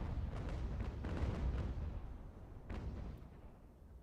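A naval cannon broadside in Ultimate General: American Revolution: a rolling series of heavy booms merging into a rumbling roar, with a final separate blast before fading.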